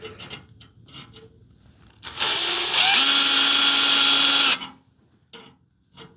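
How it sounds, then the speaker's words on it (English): Power drill boring through the metal of a 1967-72 Chevy truck door to make holes for spot welds: a short whine, then a loud sustained high-pitched drilling screech for about two seconds before stopping, with faint workshop handling noises around it. "So what I want to do is drill this out so I can put 2 spot welds in it."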